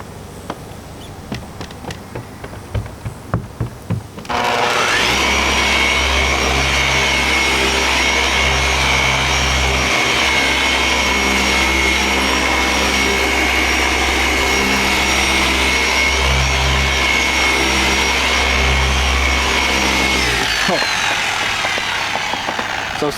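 Machine polisher buffing car paint with an all-in-one one-step polish during a production buff, switching on after a few knocks and whirring loudly and steadily for about fifteen seconds before spinning down, with no talk.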